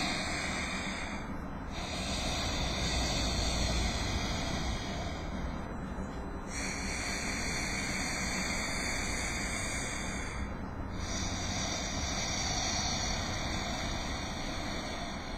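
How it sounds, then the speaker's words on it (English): Slow, deep breaths through the throat, a steady hissing rush like ocean waves or wind, repeating in long cycles with brief pauses. "it's a little bit deeper of a breath, and it kind of will sound like the ocean or wind"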